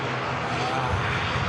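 Aircraft engine droning at Manchester Airport, a steady, broad roar held evenly throughout, sounding fairly distant with no voices over it.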